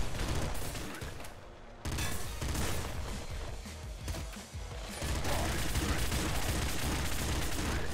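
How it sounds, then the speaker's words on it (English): A toxic assault rifle fires in Nuclear Throne, sending rapid, dense bursts of gunfire over a constant loud game soundscape that dips briefly between volleys. "Toxic assault rifle. Dangerous as all shit, but a lot of fun."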